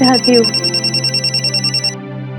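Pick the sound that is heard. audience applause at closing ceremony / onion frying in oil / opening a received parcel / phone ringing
phone ringing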